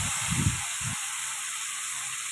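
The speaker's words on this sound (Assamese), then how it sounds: "এয়া মায়ে আপোনাৰ তেল গৰম কৰি মাছকেইটা ভাজিবলৈ এৰি দিলে" Rohu fish frying in hot oil, a steady broad sizzling hiss running throughout, with a few brief low thumps near the start as the pieces are set down.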